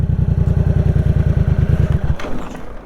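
A motorcycle engine putters in a fast, even rhythm at close range, then stalls abruptly as the clutch is released without throttle, leaving a faint rattle and near silence.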